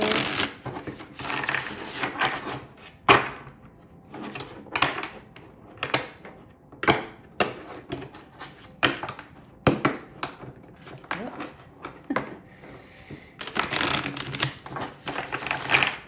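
Tarot cards being shuffled in repeated quick riffles and taps, close up, with brief pauses between bursts and occasional soft speech.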